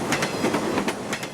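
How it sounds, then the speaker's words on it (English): A train rumbles past outside a building, with a steady close rumble and the rhythmic clickety-clack of its wheels over the rails in a short burst. "Outside, the trains rumble by every day."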